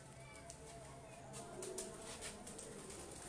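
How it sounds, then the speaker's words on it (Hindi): Pigeons fly and coo over rooftops in a faint, steady outdoor wash, with soft bird calls and brief flutters rising in the second half and a murmur of distant voices underneath. "माशाल्लाह बड़े अच्छे कबूतर उड़ रहे हैं"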